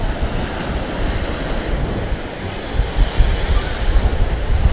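Strong wind roars steadily into the microphone, with broad rumbling gusts that swell louder toward the end; no one speaks.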